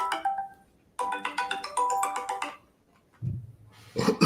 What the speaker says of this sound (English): I don't like your ringtone.